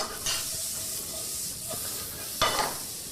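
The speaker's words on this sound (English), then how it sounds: "So saute that up." Food sautéing in oil in a pan, with fish steaming nearby, gives a steady soft sizzle and hiss, punctuated by a few sharper bursts of crackle as things are stirred.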